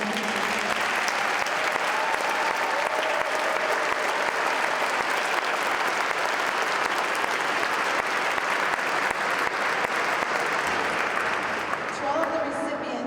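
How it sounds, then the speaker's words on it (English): A crowd at a congressional recognition ceremony gives award recipients another round of applause, a loud, sustained sheet of clapping lasting over twelve seconds, with faint voices in the background. "Can we go ahead and give these recipients one more round of applause?"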